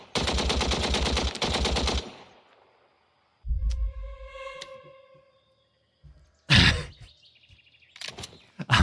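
Gunfire in a World War II Pacific video game: a burst of rapid machine-gun shots, then a short ringing electronic chime, followed by two more sharp separate shots.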